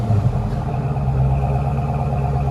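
A 2017 Dodge Charger Scat Pack with a 6.4L HEMI and dual exhaust fitted with Northeastern glass packs rumbles at idle, a deep, loud, continuous burble heard up close.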